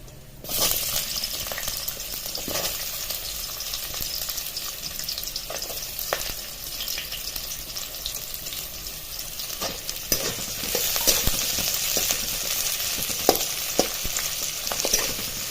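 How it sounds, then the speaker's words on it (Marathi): Onion frying with ginger and garlic in hot oil for bajar amti, a steady close sizzle throughout with occasional scraping and stirring clicks from a spoon, loud and continuous with no voices. "आलं लसूण थोडस लालसर झालं की लगेच त्यामध्ये कांदा टाकून घेणार आहोत"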